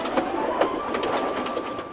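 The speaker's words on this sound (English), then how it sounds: "By the time they got into the countryside, the train was running nicely." A steam train rolls along the rails with a steady rumbling hum and faint rhythmic clatter, continuous and fairly close, with no voices.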